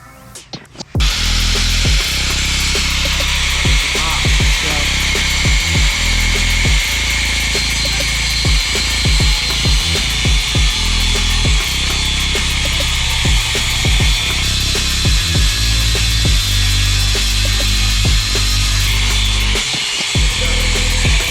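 A loud power tool grinds and saws continuously, close up, cutting light bar mounting brackets for a Chevrolet Cruze bumper, with uneven bites and rasping strokes throughout and no talking.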